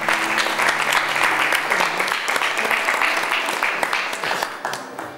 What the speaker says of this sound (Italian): Applauso, dai